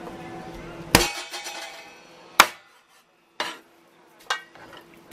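A cleaver chops raw chicken pieces on a cutting board. Four sharp, distinct knocks come at uneven intervals, close and loud, each one fading quickly into quiet.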